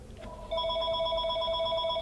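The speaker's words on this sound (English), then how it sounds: "And damn that phone to the fiery oblivions of hell." Telephone ringing with a steady electronic tone, close and clear, starting after a short quiet moment and sounding continuously to the end.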